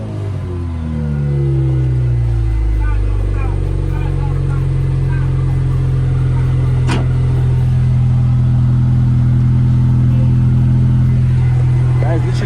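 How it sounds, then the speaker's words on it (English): A wrecked car's engine cranks, catches and settles into a loud, steady idle up close, with a deep humming drone and a brief sharp knock partway through. "Literally after 5 hours I got the car to start."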